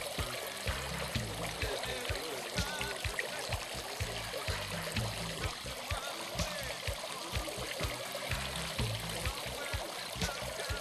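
A pond fountain splashing and aerating the water, with a dense, continuous rush of falling and trickling water close by, steady throughout with low burbling underneath.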